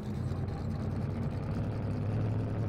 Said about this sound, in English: Still hear his engine limping.